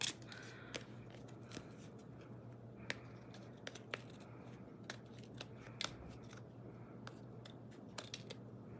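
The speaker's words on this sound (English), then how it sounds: "so just cut off all of those little excess pieces" Scissors snip off small excess pieces of tacky cardstock for a note card, giving sharp irregular close clicks scattered over a low steady hum, with no talking.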